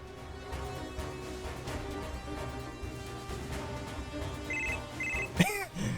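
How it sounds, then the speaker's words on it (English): A phone ringtone from the Super Robot Wars 30 video game repeats as a trilling, bell-like ring over game music and effects. It ends in a short, sharp burst of electronic sound. "Also the ringtone."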